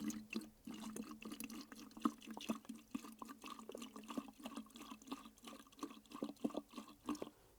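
Liquid seaweed fertiliser pours into thick fish emulsion in a container, giving a close, steady splashing and trickling with irregular drips and gurgles throughout, with no voices.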